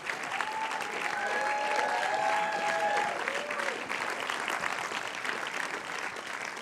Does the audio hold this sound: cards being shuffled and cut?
no